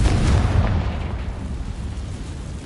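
A Confringo spell explosion in Hogwarts Legacy, a single loud booming blast right at the start that fades into a rumbling tail.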